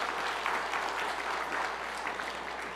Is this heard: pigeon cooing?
no